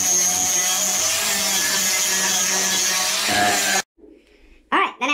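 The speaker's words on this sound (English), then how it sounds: "Then I like to round the edges using a flat disc" A power tool with a flat disc rounding the edges of a wooden craft tree gives a loud, steady grinding whine for several seconds, then cuts off abruptly, followed by a short burst of noise at the end.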